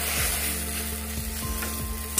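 Chopped egg pieces fry in a pan for a Bengali egg curry, with a steady sizzle of oil and repeated scraping stirring strokes close by; no one speaks.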